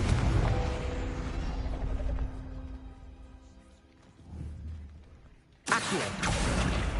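A Confringo fire spell exploding in the Hogwarts Legacy video game: a low rumble and fading tonal effects, then a sudden loud, bright burst near the end that sustains to the close.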